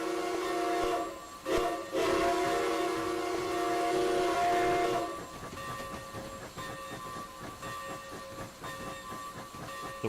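Amtrak passenger train, likely the Palmetto or Carolinian, rolling past a transportation museum, loud and steady with a horn blast in the first half, then fading to a softer rumble and clatter of wheels.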